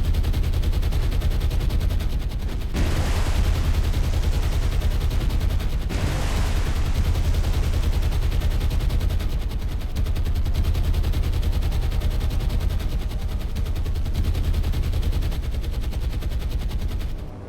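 Naval battle in the War on the Sea video game, bombs dropping on a troop ship and a lead destroyer amid steady gunfire, a dense continuous roar of loud shots with heavier blasts near the start and around six seconds.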